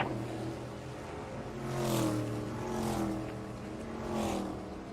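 NASCAR Cup Series race cars pass on track at Richmond Raceway during practice, a continuous engine roar that swells and fades in waves as the cars sweep by at a distance.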